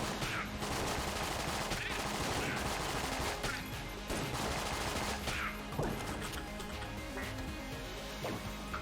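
Rapid shots ring out in the video game Enter the Gungeon, dense bursts of bright pops and impacts over game sound, with a few heavier blasts spaced through the stretch.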